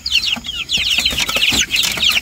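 Chickens on a Vietnamese farm clucking continuously in quick, overlapping calls, close and fairly loud, with light background noise.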